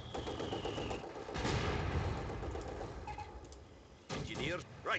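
Mortar fire and battlefield din in the World War II strategy game Company of Heroes 2, with a steady roar of gunfire and explosions and a sharper blast near the end.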